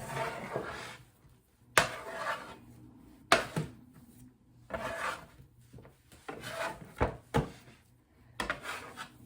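Sourdough bread dough is scooped and rounded on a work surface, with quiet, repeated rasping scrapes and rubbing strokes coming in irregular bursts and occasional sharper knocks, with no one speaking.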